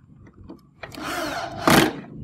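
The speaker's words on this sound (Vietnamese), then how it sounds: "Cái dùng một máy khoan cho nó nhanh." A power drill drives screws back into the casing of a Casio digital piano during repair, giving short whirring bursts with faint clicks before, and louder buzzing at the end.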